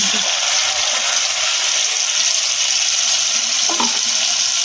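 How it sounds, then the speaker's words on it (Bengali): Mustard and green chilli paste sizzles in a hot pan, a steady bright frying hiss that runs throughout, with a brief clink near the end and no talking. "এবার আমি দিয়ে দেবো সর্ষে বাটাটা সর্ষে আর কাঁচা লঙ্কা একসাথে বাটা রয়েছে"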